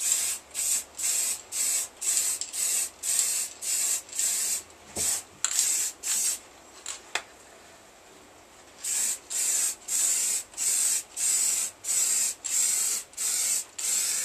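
Short repeated bursts of an aerosol or spray gun laying a thin tack coat of paint onto a Harley-Davidson 883 Iron belly pan in a garage, close and hissing in a steady rhythm, with a brief pause midway before the strokes resume.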